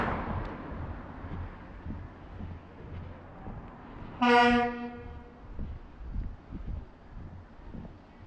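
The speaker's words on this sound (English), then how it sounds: "Freaking truck over there beeping its horn, honking its honker" A truck honks its horn once in a short, loud blast at a distance during a night walk, standing out against steady outdoor street noise.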